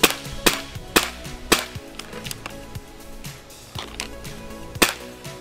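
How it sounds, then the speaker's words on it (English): An air shotgun fires five pellet shots freehand at a target 10 yards away, each a sharp, close crack spaced about a second apart, with quieter mechanical clicks and handling noise between the shots. "I'm going to take 5 shots just freehanding it using the little front bead."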